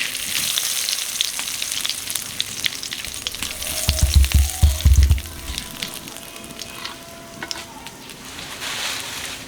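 Whole cumin seeds and two bay leaves frying in hot white cooking oil, a steady bright sizzle with a louder burst of crackling and spattering partway through, heard up close with no talking.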